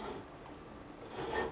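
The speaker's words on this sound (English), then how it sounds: "I'm going to cut over the binding, and we're going to cut the slots a little bit deeper" Hand saw rasping through the fret slots over the binding on a Yamaha Compass Series CPX-5S acoustic guitar during a re-fret, a steady close scraping that grows slightly louder near the end.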